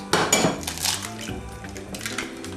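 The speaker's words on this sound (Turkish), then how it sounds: "3 adet yumurtamız var. Öncelikle bunları kırıyoruz." Three eggs are cracked against a hard edge with sharp clinks and taps, followed by clattering of a bowl and utensils, close by with no talking.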